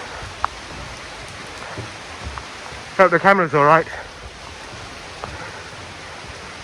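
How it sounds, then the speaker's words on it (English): Steady hiss of rain falling throughout at Singapore Zoo, with a short burst of a person speaking partway through. "That's how much it's raining."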